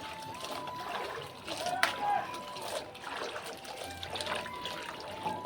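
Water trickles and splashes softly as jujube fruit is rinsed outdoors, a quiet wet dribble that runs on with faint voices in the background.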